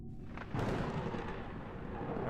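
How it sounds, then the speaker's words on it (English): Deep rumbling thunder in Kerbal Space Program, a low sustained roll that swells after a quiet start and carries on steadily at moderate loudness with no talk over it. "Why are we hearing lightning, thunder right now?"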